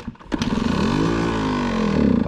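A dirt bike engine with the choke on catches after a couple of brief cranking bursts, then settles into a loud, steady, close idle with a slight rise in pitch toward the end.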